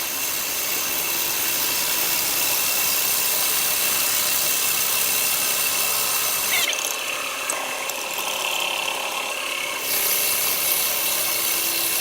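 Wood lathe turning a vase, a steady loud whirring and scraping of a tool cutting the spinning wood, with a brief change in tone partway through and no talking.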